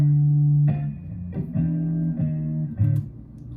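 An electric guitar line processed with chorus and a multipressor, playing a series of sustained notes with clear picked attacks and gentle pitch changes, fairly loud and alone.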